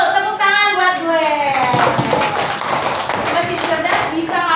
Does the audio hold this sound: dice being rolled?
no